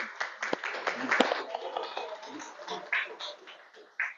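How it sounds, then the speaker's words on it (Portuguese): Scattered audience applause at a talk, uneven individual claps and taps rather than a full ovation, fairly faint, with some voices mixed in. "E as palmas são sempre para ele."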